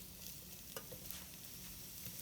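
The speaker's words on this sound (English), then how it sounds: "we're gonna throw some mushrooms in the pan. You hear the sizzle?" Mushrooms sizzle faintly in a frying pan, a continuous soft hiss and crackle with light stirring noises and no talking.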